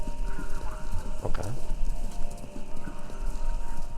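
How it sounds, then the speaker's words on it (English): Horse hooves clip-clop in the video game Kentucky Route Zero, a steady rhythmic clatter over a constant low drone with a brief whinny-like sweep and a short spoken word. "We are listening to the horse."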